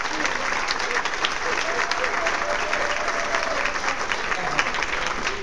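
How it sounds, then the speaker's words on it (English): An audience at a speech honoring the Alzheimer's Association breaks into a round of applause, a sustained, fairly even patter of many hands at moderate loudness throughout. "Can we give them a round of applause?"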